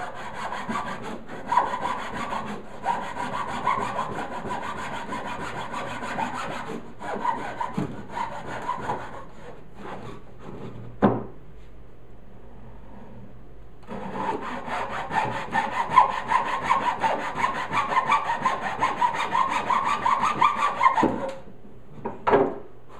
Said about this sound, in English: you can take a hacksaw. This isn't even a wood blade, this is a metal blade